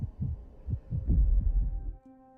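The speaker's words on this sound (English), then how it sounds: "A fucking heartbeat" Heartbeat sound effect in the game Honkai Star Rail: a series of loud, deep thumping pulses in steady rhythm over about two seconds, then a sustained low tone as the beats stop.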